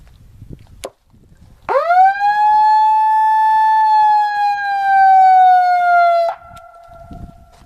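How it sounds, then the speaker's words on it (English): A loud electronic siren from a megaphone wails in one long, steady rising tone, then cuts abruptly to a brief lower hum before stopping. "It does have a siren."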